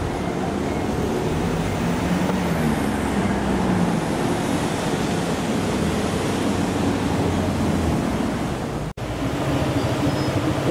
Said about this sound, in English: It's a Piccadilly line train going back into the tunnels.